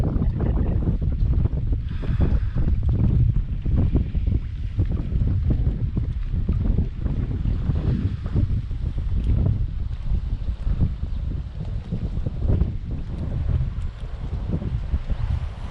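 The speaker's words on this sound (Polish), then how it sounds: "ale wiatr wieje" Strong wind buffets the microphone continuously while fishing, a rough rumbling roar that never lets up, with water sloshing faintly underneath.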